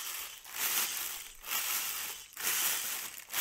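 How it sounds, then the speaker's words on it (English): A plastic bag being scrunched: crinkly rustles swell and fade in several broad bursts, bright and hissy, close up with no voices. "It's a plastic bag being scrunched"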